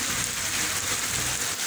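Heavy rain pours down over Santa Cruz do Capibaribe in Brazil's Northeast, a steady, dense hiss of falling water that holds evenly loud from start to finish with no voices.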